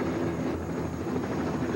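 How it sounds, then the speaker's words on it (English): Helicopter flying overhead during a tense police standoff, a steady broadband rotor drone that holds throughout, with faint speech-like sounds underneath. "It's a helicopter."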